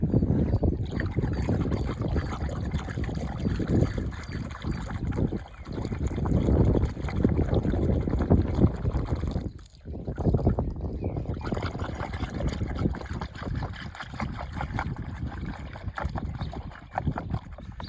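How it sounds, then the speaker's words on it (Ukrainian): Herbicide solution stirred in a container for weed control in a garden, giving close, continuous sloshing and swirling of liquid with small dips in loudness. "І перемішуємо наш яд."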